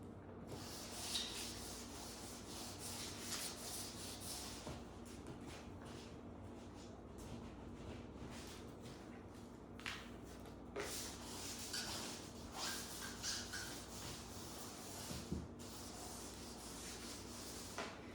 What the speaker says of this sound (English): I'm gonna finish sanding the whole bumper.